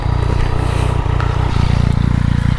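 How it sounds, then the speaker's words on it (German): Yamaha XSR900 motorcycle with an aftermarket MIVV exhaust, a loud, deep, steady engine drone close by with a pulsing low rumble throughout. "ich bin ein bisschen enttäuscht von dem Auspuff, da ich finde, dass er zu sehr klingt wie der Serienauspuff"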